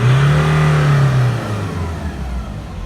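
A Nissan Navara D40 pickup's engine revs hard and steadily at high pitch to about 4,800 rpm, then eases down to a lower hum, loud and close with no talking. The engine has a knocking fault.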